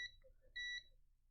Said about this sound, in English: putting my multimeter in beep mode, I'm just going to go around and check all of these caps